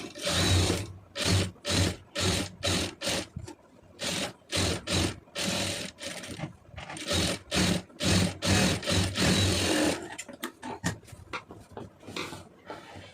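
A sewing machine stitches lace onto a garment neckline, loud and close in rhythmic bursts of rapid needle clatter separated by short pauses, then a more continuous run of stitching near the end.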